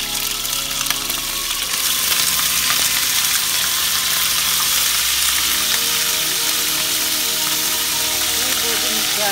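Meat dropped into hot oil for a Central Asian pasta and rice soup dish, a loud, dense sizzle that flares up and then holds steady and close, with brief speech near the start.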